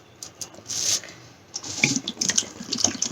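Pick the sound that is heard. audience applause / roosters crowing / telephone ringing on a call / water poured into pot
water poured into pot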